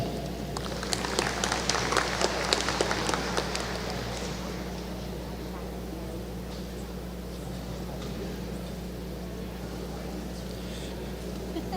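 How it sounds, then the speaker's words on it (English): Applause from a convocation audience, clapping that is strongest early and then thins and fades, leaving a steady hum of room noise behind it. "definitely worth an applause"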